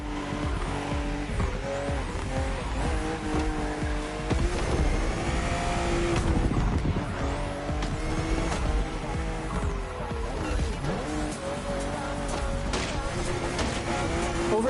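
BMW M2 and M4 race cars in The Crew Motorfest on a narrow road with sharp bends, producing continuous loud engine roar with shifting revs, tire squeal and skidding, plus overlaid music or talk.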